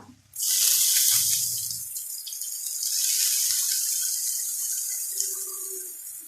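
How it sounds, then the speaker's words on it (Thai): Water pours steadily into a pan while noodles are cooked, a continuous close splashing rush that starts after a few light clinks and carries on alone to the end. "เติมน้ำนะคะ เติมน้ำลงไปนะคะ"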